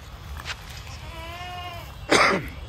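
Goats at a goat farm give a wavering bleat, followed by a louder, rougher call. Both are close and short, over a faint background.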